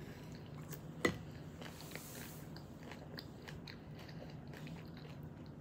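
Bell peppers are chewed close up, faint and quiet, with one sharp crunchy bite followed by soft, steady mastication.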